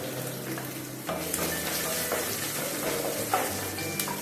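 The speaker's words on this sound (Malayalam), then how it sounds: "ഇനി ഇതിലേക്ക് ഇഞ്ചി ഇട്ട് കൊടുക്കാം." Ginger fries in hot oil in a pan after mustard seeds, part of an oyster mushroom roast, giving a steady, close, crackling sizzle with scattered pops throughout, with no talking.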